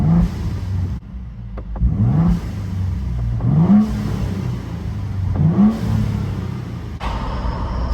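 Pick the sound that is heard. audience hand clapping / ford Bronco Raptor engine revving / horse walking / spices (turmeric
ford Bronco Raptor engine revving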